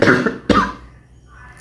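Two harsh coughs from a person with a lingering cough after a fever, close and loud, the second sharper and followed by quiet.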